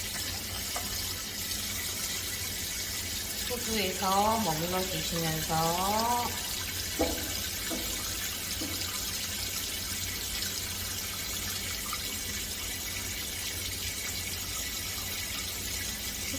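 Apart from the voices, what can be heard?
water running from shower head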